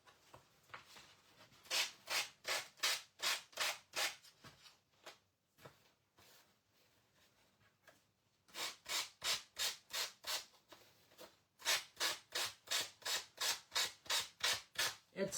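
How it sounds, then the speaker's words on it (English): Hand sanding along the edge of a cardboard frame coated with two layers of paint, with quick rhythmic back-and-forth scrapes in bursts separated by short pauses, close and fairly quiet. "I'm just sanding this off and getting this edge off"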